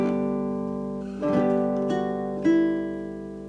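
A baritone ukulele plays a few measures of a Hawaiian waltz, soft plucked notes and chords sounding alone and close, with a couple of brighter strums standing out before fading.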